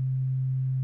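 A steady, pure sine wave tone from the Arturia Pigments 3 wavetable synth, serving as the carrier, holds at a constant pitch and level, loud and alone for under a second.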